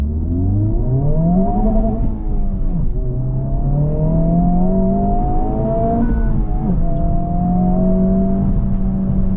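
A 2024 Honda Civic Type R heard from the cabin, its engine and exhaust rising in pitch under hard acceleration, with two brief dips for gear changes before the note climbs again, loud and continuous with no talk.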